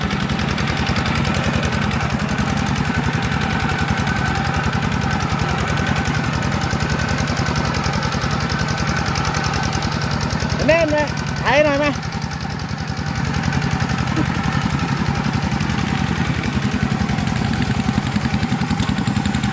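A walk-behind tractor's small engine chugs steadily and loudly throughout with a rough, knocking rhythm, close by while ploughing a field; a brief voice rises over it midway.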